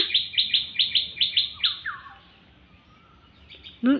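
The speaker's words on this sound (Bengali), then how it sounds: "ননি কিরম করে পাখিটা ডাকছে" A small bird gives a rapid series of bright chirps, then a few descending notes, pauses, and chirps briefly again before a short low sound.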